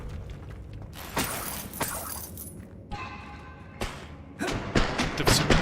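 In Hogwarts Legacy, the Depulso spell shoves an object over with a run of heavy thuds and clattering impacts, the hits bunching up toward the end.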